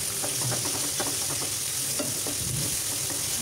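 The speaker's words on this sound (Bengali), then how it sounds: "এই তো নাড়াচাড়া করে ভেজে নিচ্ছি।" Onions fry in a pan with salt and are stirred, giving a dense, continuous close sizzle with soft scraping and shuffling of the spatula, no speech.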